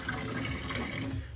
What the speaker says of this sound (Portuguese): vou encher o copinho de água aqui